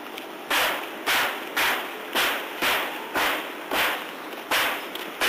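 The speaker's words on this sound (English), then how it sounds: "They have to rip a lot of aluminum off, aluminum covers that were put on these beams." Workers on the wooden Fraser River bridge in Quesnel rip aluminum covers off the beams, making a regular series of sharp, loud tearing cracks about every half second, each fading quickly, with a faint ambient hum between them.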